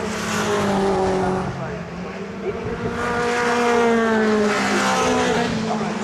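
Toyota MR2 race cars crest a hill at Cadwell Park in a championship race, loud engines rising and falling in pitch as the pack passes close by, with commentary running over the top.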